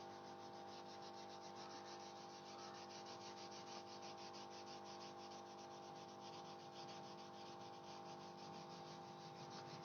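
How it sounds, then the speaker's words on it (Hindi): A tissue rubbed on paper to blend artwork, making a soft, close, steady rhythmic scrubbing that continues evenly without pause or voices. "ऐसे ब्लेंड करना है, ऐसे रब करना है।"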